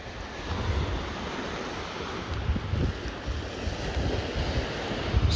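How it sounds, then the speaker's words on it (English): Ocean waves wash onto a beach at Koh Lanta, Thailand, a continuous close surf roar with gusty wind buffeting the microphone and slightly stronger surges every few seconds. "listening to the waves is just free your mind from anything that is bothering you"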